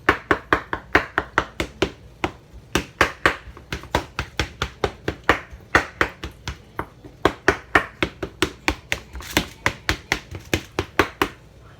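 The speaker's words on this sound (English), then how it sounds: "So, you just take your flat knife like this and you poke like little holes in it." Flat knife repeatedly poking small holes into raw steak on a board: dozens of sharp, close, crisp taps in quick irregular rhythm, sometimes in fast bursts, with no talking.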